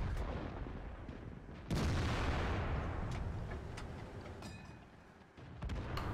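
Artillery fire in a tank video game: a single heavy boom lands partway through and leaves a long rumbling tail, over steady battle noise with some fainter impacts.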